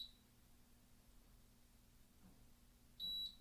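An Agilent 34401A multimeter with multiple error faults gives a single clear, high electronic beep as it powers on into its self-test, ringing out near and alone after a stretch of faint hum.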